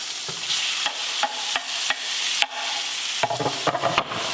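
Butter and olive oil sizzle in a pan on high heat before a sear. A steady hiss is broken by sharp utensil clicks and scrapes against the pan, close and alone.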